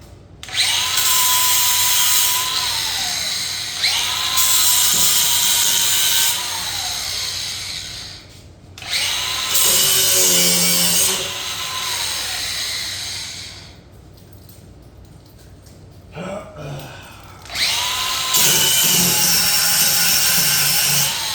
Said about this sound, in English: I'm removing material right here that was a weld with a bracket.